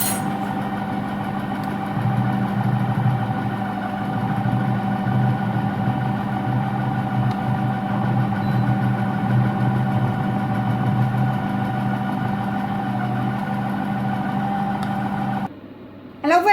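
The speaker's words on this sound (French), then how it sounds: "le bruit de fond derrière, c'est mon four" A Compact Cook Elite multicooker runs with a steady, droning motor hum that holds for about fifteen seconds, then cuts off abruptly near the end.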